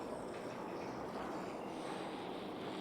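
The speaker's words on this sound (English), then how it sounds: "Now I hear water, rushing water." Steady rushing water from The Walking Dead video game, a continuous broadband wash of flow that stays even and fairly faint throughout, with no voices over it.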